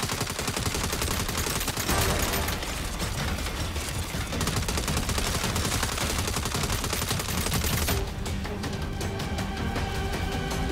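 Rapid turret gunfire in the Saints Row video game rattles continuously in loud dense bursts, with heavy automatic shots piling over one another and only a brief letup near the end.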